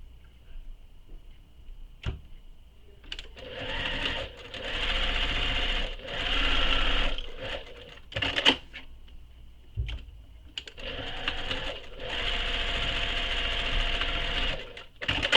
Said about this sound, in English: I'm going to top stitch these long sides